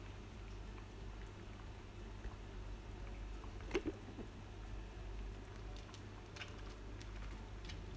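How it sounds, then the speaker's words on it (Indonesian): Ketupat and lontong rice cakes boil in a pot on a stove, giving a faint, steady bubbling and simmering hiss with a couple of soft knocks partway through. "Sebelah saya sedang merebus ketupat dan lontong."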